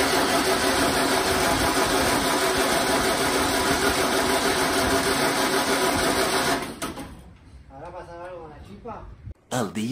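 A 1929 Ford engine runs with a steady, loud mechanical clatter for about seven seconds, then cuts out; afterwards a voice speaks over quieter background noise.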